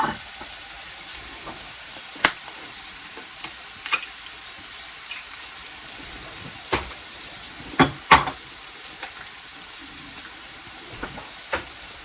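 An egg frying in a hot pan gives a steady, fairly quiet sizzle, with a few sharp clicks and taps scattered over it, heard close with no talking.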